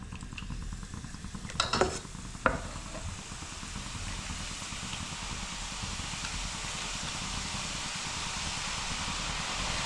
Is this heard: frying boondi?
yes